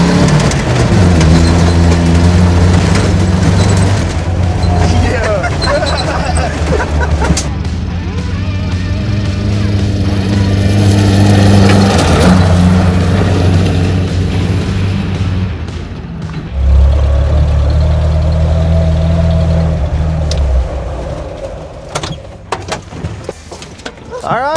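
A rebuilt car engine, worked on in a parking lot, runs loud and close, rising and falling through several revs with low droning idle between them and voices talking over it.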